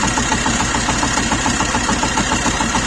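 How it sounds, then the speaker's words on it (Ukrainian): A steady mechanical whirring from a running engine with a worn tensioner pulley bearing, continuous and close, with a faint rhythmic rasp layered over the idle hum. "Чутно як шуршить, видно, полетів підчіпник."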